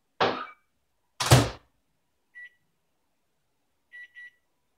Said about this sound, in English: I'm going to put this in the microwave really quick